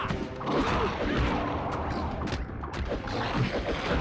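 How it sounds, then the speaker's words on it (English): Shaggy firing repeatedly at werewolves in the PS2 game Scooby Doo First Frights, a busy run of dull thumps and crashes layered over constant game music and effects, fairly loud throughout with no pauses. "Shaggy will just shoot his balls at the werewolves until they're finished."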